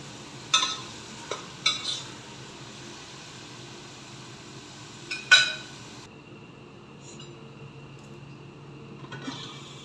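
Onions and tomatoes frying in a pan for chicken dum biryani, with a steady soft sizzle under several sharp scraping stirs near the start and middle and a few lighter clinks later.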